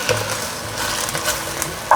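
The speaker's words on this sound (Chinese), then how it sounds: "略炒一下，放入水，过滤水大约放2汤匙，主要是要让水汽把这个大白菜的梗炒软" Napa cabbage stems stir-fried in a pan with about two tablespoons of filtered water added, giving a steady close sizzle with scraping stir strokes and a sharper clatter near the end.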